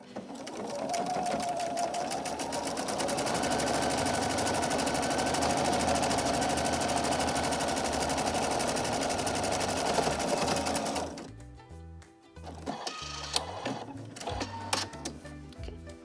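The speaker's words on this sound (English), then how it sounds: "So we're just going to sew one straight line down about 1/2 inch from the top." A sewing machine stitches a straight seam across a pleated fabric face mask, running in a steady, loud, continuous whir for about eleven seconds, then stopping to leave intermittent clicks and handling noises.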